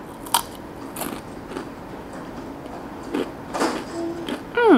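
Close crunching as spicy hot tortilla chips are bitten and chewed: several short, crisp bursts separated by brief pauses, with a quieter chewing sound between bites.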